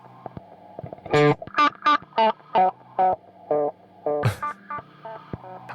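A guitar effects pedal modulating by itself produces a series of distorted, chorused synth-like tones, about a dozen short pulses in an uneven rhythm over a faint hum, with no talking.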